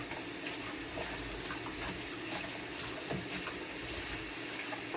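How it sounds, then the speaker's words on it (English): A faucet runs steadily as guinea pigs are rinsed for a bath, a close, even hiss of flowing water with faint splashes and no talking. "I just rinsed them off under the faucet"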